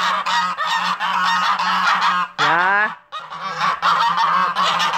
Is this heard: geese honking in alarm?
yes